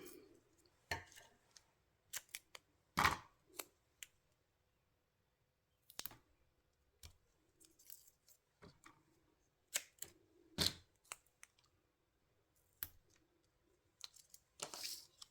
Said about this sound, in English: So we'll just take the scissors and cut that.